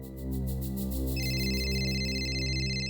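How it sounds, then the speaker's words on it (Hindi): A phone rings with a repeating electronic ringtone, soft and steady, becoming brighter and busier partway through, with no voices over it. "आपका फोन बज रहा है, उठाइए।"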